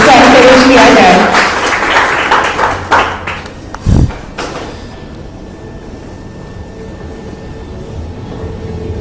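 Audience applause at a Korean skincare product training workshop, a loud burst of clapping that fades over the first few seconds, with a sharp thump partway through and quieter room sound after.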